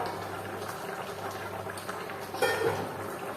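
A covered pot of Bengali vetki fish curry boils steadily. The soft, continuous bubbling stays faint and even, with a brief louder stir of liquid near the end.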